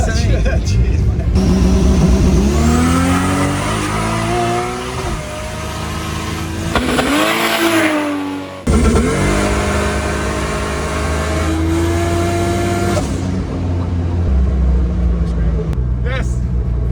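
A 4.2-litre stroker Barra engine making around 1400 horsepower roars as the car launches hard on the street, loud and sustained with rising engine pitch, a brief dip and then another surge as it pulls away.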